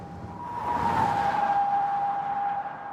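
A car accelerating hard toward 80 miles an hour on a Colorado road, with a steady high engine whine rising and holding loud and close over a rushing road roar.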